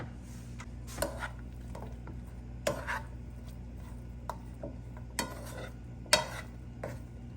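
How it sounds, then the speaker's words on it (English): Bacon and meat fry in about a tablespoon of oil in a pan, giving a steady low sizzle with a few sharp utensil clacks against the pan, close and moderately loud with no talking. "Let's fry those meats."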